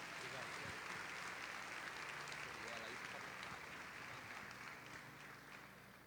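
A church congregation applauding, a dense and steady wash of clapping that fades slightly toward the end, with voices mixed in.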